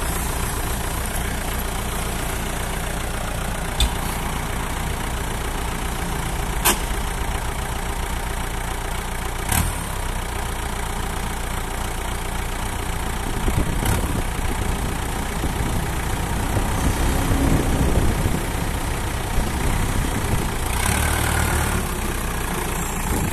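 A used Japanese tractor's engine runs steadily on a test, a continuous mid-to-low idling drone with a few faint knocks and clicks and a slight swell in loudness toward the end.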